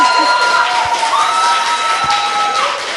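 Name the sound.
audience applause and cheering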